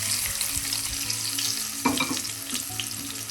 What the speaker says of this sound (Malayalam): ഈ ഓയിലെല്ലാം കൂടെ നല്ലതുപോലെ ഒന്ന് വഴറ്റാം